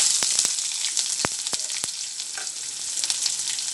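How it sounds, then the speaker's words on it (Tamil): Onion sautés in oil with popped mustard seeds and two dried red chillies, a loud, dense sizzle close up, peppered with sharp crackling pops. "நல்லா ஒரு கலர் வதக்கிக்கோங்க"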